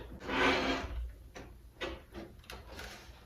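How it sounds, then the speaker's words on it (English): A bi-fold barn closet door rolls along its track and settles closed, giving a soft rumbling slide followed by several light knocks and clicks as the panels seat, fairly close and quiet, with no talking. "once it's in the track and rolls back closed, and the door is going to sit"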